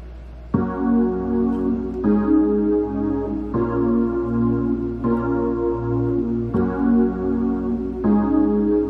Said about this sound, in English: The synth sounds like this.